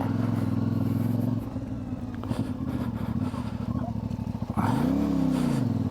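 A CF Moto 450MT motorcycle on Kenda Big Block tyres revving steadily as it pushes through mud on a trail, with a droning engine note, clattering chain and wheel noise, and a rising rev surge near the end.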